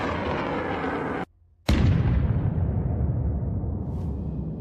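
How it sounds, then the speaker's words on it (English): A HIMARS missile strikes Russian Buk air defense ammunition, setting off a massive blast: a deep roar, a brief gap, then a sharp loud boom followed by a long, rumbling decay of secondary explosions. "Missile hits the ammunition, causing a massive explosion."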